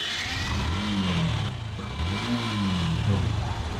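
A used 2019 motorcycle at a secondhand bike showroom in Tangail is started and revved, its engine note climbing and falling in several swells over a steady idle, close and fairly loud.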